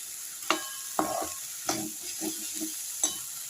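Peas sautéing in a pan: a steady soft sizzle punctuated by several sharp spatula scrapes and stirs at uneven intervals, close up.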